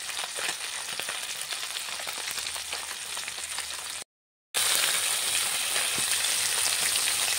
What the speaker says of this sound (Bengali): ভালো করে তেলে এগুলো ভাজা হচ্ছে, মচমচে করে একদম ভাজা হচ্ছে